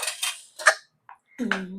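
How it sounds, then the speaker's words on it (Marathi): A spoon clinks and scrapes against a bowl mashing banana in a few short bursts with pauses between, and a brief voice comes in at the end. "तू केळीला असं स्मॅश स्मॅश करतोय चमच्यानी"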